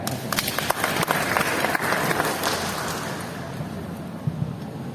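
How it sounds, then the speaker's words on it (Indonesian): Audience applause at a national education seminar, a dense burst of clapping from a seated crowd that thins and fades toward the end, with a few sharper individual claps standing out early. "Tepuk tangan ya."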